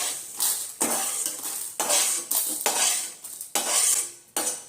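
Fried mint chutney ingredients scraped from a pan onto a plate: a series of loud, close metallic scrapes and clinks of spoon against cookware, coming in short irregular bursts with no talking.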